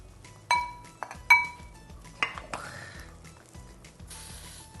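Metal and ceramic clink together in a few sharp knocks as Korean beef and radish soup is ladled into a bowl, followed by softer scraping and rattling close by.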